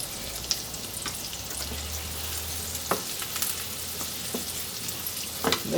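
Shallots frying gently in a pan over moderate heat give a steady low sizzle with faint crackles and a few brief stirring clicks, close up, with no voices.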